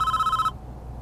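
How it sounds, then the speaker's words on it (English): A telephone in the prison-management game Prison Architect gives a short, bright electronic ring that cuts off abruptly after half a second, leaving only a faint low background hum. "And another phone call from the CEO."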